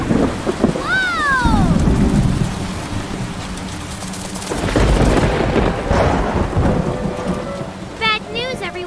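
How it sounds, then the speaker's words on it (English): Heavy rain pours steadily while thunder rumbles and cracks overhead in a Super Wings cartoon, with brief high whistling tones cutting through near the start and end. "The storm is heading this way."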